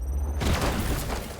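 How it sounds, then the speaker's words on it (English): A secondary explosion in the video game Warhammer 40,000: Chaos Gate – Daemonhunters erupts as one sudden loud boom after a low hum, then fades into a rumbling, hissing tail. "Yeah, that would probably kill him. With that secondary explosion."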